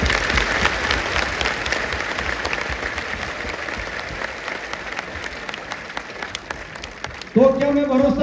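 An audience at a Buddhist lecture applauds in a dense, steady roar of clapping that fades slightly before a speaker's voice cuts in near the end.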